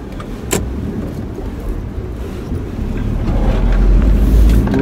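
A car drives along a road toward Calamba City with a steady engine and tire rumble, wind noise buffeting the cabin and a low drone swelling louder toward the end.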